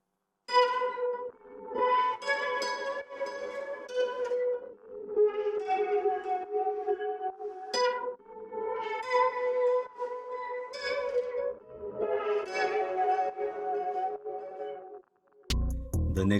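Layered guitar counter melodies, treated with chorus, delay and tape-style room effects, play as a steady flowing phrase with sustained ringing notes and soft echo tails, ending with a brief noisy cut.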